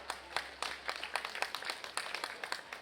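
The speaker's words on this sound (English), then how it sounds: "We'll give our division winners over here a big round of applause" A small crowd at a pig show claps for the gilt division winners, with steady, faint applause carrying on for a few seconds.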